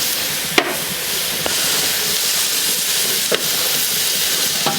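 Garlic sizzles in a paella pan on a Kamado Joe grill, a loud steady frying hiss close up, broken by a few sharp clinks of a utensil against the pan.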